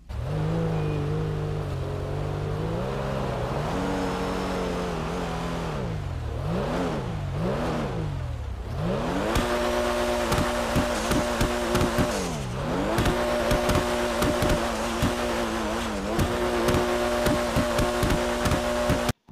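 A Pfister Comet Retro Custom, a Porsche 911S-styled car, driven in a video game: the engine revs rise and fall through repeated gear changes, loud and constant, with sharp bursts near the end.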